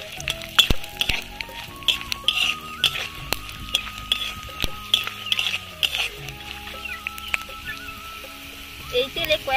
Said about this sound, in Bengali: এবার আমি 2টো শুকনো লঙ্কা দিয়ে দিচ্ছি।